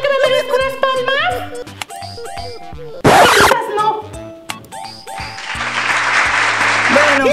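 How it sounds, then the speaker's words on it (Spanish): A short burst of applause breaks out partway through, set within music and cheerful talk by people making a craft gift, then a longer stretch of broad clapping-like noise. "creo que me merezco unas palmas"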